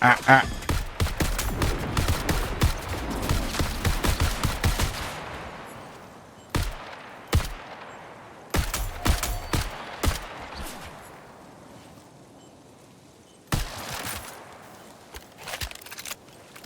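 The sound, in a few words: gunfire in the video game Marathon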